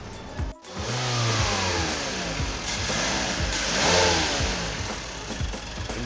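A 2013 Mazda CX-5 GT engine turns over at low RPM, a steady, smooth mid-toned hum with a gentle swell partway through and no voices.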